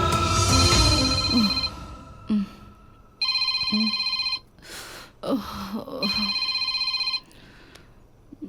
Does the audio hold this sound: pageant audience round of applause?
no